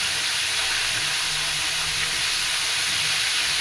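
Stuffed kofta frying in hot oil in a home kitchen, a steady, loud, unbroken hiss and sizzle that fills the whole stretch without pause.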